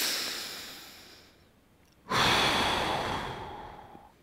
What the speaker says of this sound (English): And we're just breathing here.